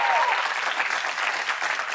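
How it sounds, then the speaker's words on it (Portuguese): Studio audience applauding after a fado performance, dense steady clapping throughout at close range. "Um aplauso."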